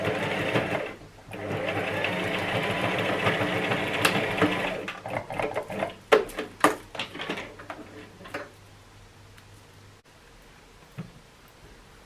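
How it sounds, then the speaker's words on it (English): A sewing machine stitches elastic onto a fabric headband with a loud, steady close whir for about five seconds, then stops into scattered clicks and fabric handling that fade out, with no voices. "you're going to stitch the elastic down"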